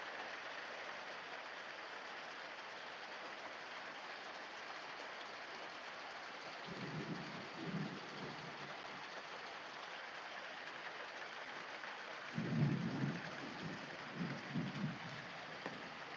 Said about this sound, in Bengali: লিটারেলি প্রচুর বৃষ্টি হচ্ছে